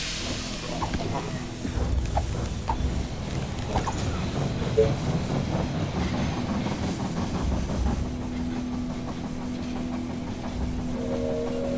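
A train pulls into a station in the video game They Are Billions, its wheels rolling with a rhythmic clatter and a low engine rumble, ending in a steady tone as it settles.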